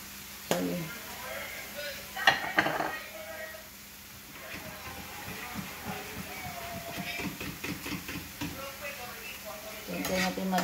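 Mushrooms cook in a pan with a soft sizzle, a spatula stirring and scraping, and light clatters of cookware, all fairly close and under a person talking.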